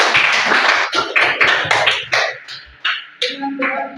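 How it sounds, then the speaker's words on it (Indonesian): A classroom of students claps together, a dense burst of hand claps that breaks into irregular rhythmic bursts and trails off near the end, close and loud, with a voice speaking briefly at the finish. "Tepuk tangan untuk dia."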